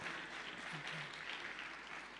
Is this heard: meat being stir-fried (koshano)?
no